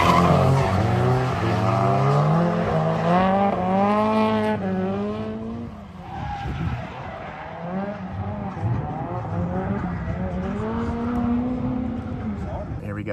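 Two drift cars battle in tandem at a drift competition in Japan, engines screaming and rising in pitch with tire squeal, while an announcer talks over the loud, continuous racing noise.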